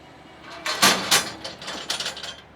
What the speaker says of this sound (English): let me open up the engine compartment door